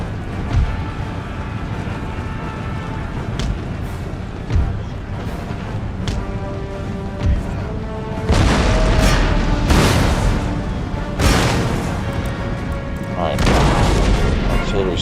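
Booming artillery and cannon fire in the Total War Empire strategy game, with repeated loud blasts and volleys that intensify midway, layered over continuous battlefield rumble and scattered musket cracks.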